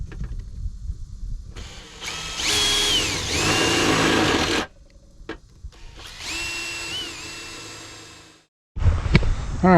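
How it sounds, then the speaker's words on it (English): A power drill bores holes into the sides of a metal ammo box firepit, with two long high-pitched whining runs separated by pauses. A clunk and a final short burst of motor noise follow. "I'm going to drill a couple more holes around on the sides"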